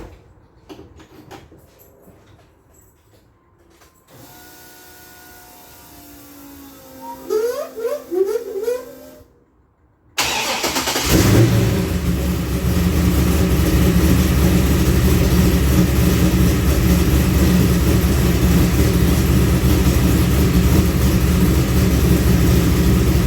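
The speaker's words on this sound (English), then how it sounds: "I got an exhaust leak now." A car engine with an exhaust leak starts up after some quiet clicks and rattles, then runs with a loud, steady, rough rumble and a raspy hiss.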